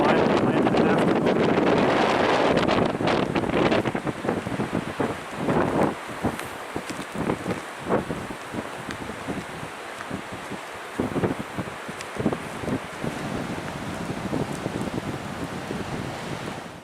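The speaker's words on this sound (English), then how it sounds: "it's an extremely strong wind coming off that lake" Strong winter wind blows in off Lake Superior near a cliffside trail, roaring and buffeting the microphone loudly at first, then gusting in uneven bursts over a constant rushing background.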